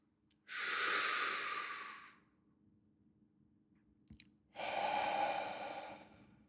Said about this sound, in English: Take a deep breath in and try and move your stomach outwards as you are breathing